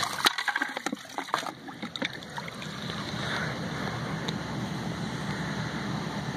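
Swimming pool water returns from the pump in a steady, close rush of churning, splashing water that holds constant after a few brief knocks at the start.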